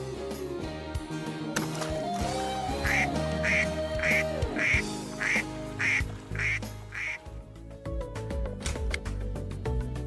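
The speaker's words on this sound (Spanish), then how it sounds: "¿Quién suena así? ¡Yo lo sé! ¡Un patito!" A toy duck quacks in a steady series of short, bright calls, about eight in a row, over cheerful children's music with a playful melody running underneath throughout.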